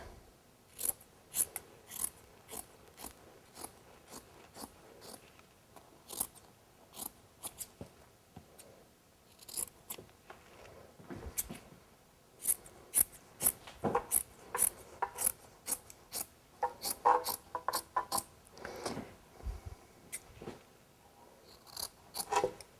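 Scissors snip repeatedly through upholstery fabric on a wooden chair frame during a living room reupholstery job, a close, irregular run of crisp cuts and rasping rubs with brief pauses.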